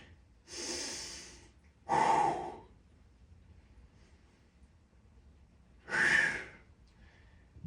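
A person breathes heavily during an upper-body workout: three loud, forceful breaths, one long exhale followed by two sharper ones, separated by quiet pauses, close to the microphone.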